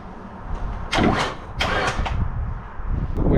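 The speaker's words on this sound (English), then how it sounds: "So when I touch the key, obviously it's not going to start up and run because we've got no crank angle sensor plugged in" A Nissan Skyline R34 sedan's engine cranks on the starter without firing, its crank angle sensor unplugged; two loud, close bursts of whirring churn stand out over a steady low mechanical hum.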